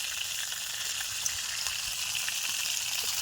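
Whole garam masala with cardamom and cinnamon frying in oil left from frying prawns, a steady close hiss and crackle that carries on without a break and without talk.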